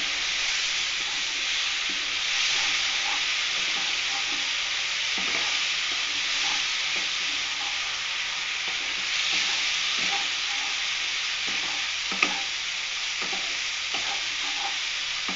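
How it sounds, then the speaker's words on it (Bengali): Spice paste with powdered spices and a little water stir-fried in hot oil in a pan, a steady sizzle with scraping stirs and occasional clinks throughout, close and alone. "এইভাবে একটু মশলাটাকে আমি কষতে নেবো"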